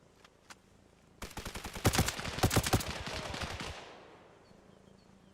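Airsoft gunfire at a milsim night training session. A few isolated shots come first, then a sustained burst of rapid, loud automatic fire that trails off into a fading echo.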